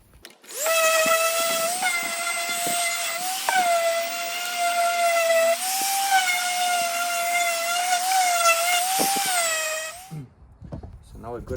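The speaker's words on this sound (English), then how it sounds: "Now we're just gonna sand off all the edges, clean it up, and we'll be ready for install." A power sander runs along the edges of a butcher block countertop, giving a loud, close, steady whine for about ten seconds with slight dips in pitch before it cuts off.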